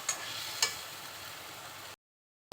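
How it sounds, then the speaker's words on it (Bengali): Spices stir-fried in oil in a pan for a Bengali egg and potato curry sizzle softly and steadily, with two small clicks of stirring, before the sound cuts to silence. "এখন সব মশলাগুলো খুব ভালোভাবে কষিয়ে নিচ্ছি।"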